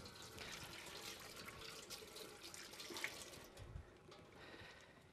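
Hands are rinsed under a running tap, a faint, steady splash of water flowing into a sink with no voices.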